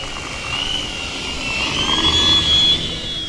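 An E-flite Draco 2.0m electric RC airplane takes off, its motor rising into a loud, steady whine that climbs in pitch and swells over a few seconds. There is no talking.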